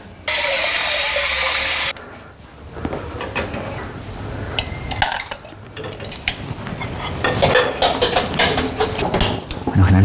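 Chicken cooks in a pot with salt and water. A loud rushing burst opens the clip, then utensils clink and stir against the pot with bursts of sizzle and steam, and voices speak nearby.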